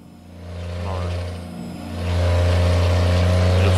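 Heavy truck engine in American Truck Simulator hauling 35 tonnes uphill, a loud, steady low drone that swells louder partway through and holds, with no talking over it.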